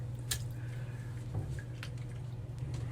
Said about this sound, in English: I'm gonna wring out this brush